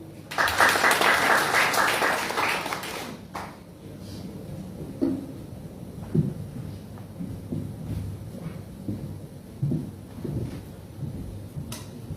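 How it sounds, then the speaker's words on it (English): Guests at a Bible school graduation ceremony clap to welcome a singer, a loud burst of applause for about three seconds that quickly gives way to quieter scattered knocks and room noise. "Let us invite her a big clapping."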